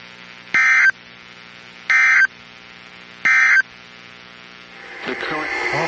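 Three identical loud buzzing data bursts of an Emergency Alert System header play at even intervals over a steady low hum. A noisier broadcast sound starts right after them.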